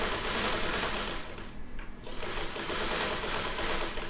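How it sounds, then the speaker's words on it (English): A sewing machine stitches pieces of quilt fabric, a close, steady whirring run with a brief slowdown midway as the presser foot eases off, then back to full speed. "I just kind of tap my presser foot, and I let my feet do the job."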